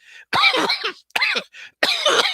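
Three harsh coughs in a row, close and loud, separated by short pauses.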